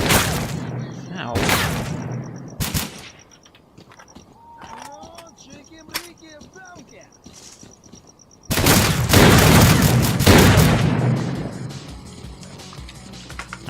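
Enemy gunfire in the S.T.A.L.K.E.R.: Clear Sky video game: loud bursts of shots early on, a quieter stretch with faint clatter, then a long sustained fusillade of rapid fire.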